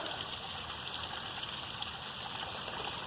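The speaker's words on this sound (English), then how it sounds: "We got a creek running down there, and it's running in a secondary hole back there" Rain-fed creek water running down into a sinkhole, a steady, fairly quiet rushing trickle with no voices.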